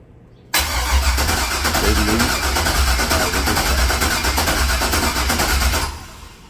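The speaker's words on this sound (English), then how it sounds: "Here was the first time I turned the motor over in the car." An LS V8 swapped into a squarebody C10 pickup cranks and fires, then settles into a loud, steady rumbling idle close by before cutting off abruptly near the end.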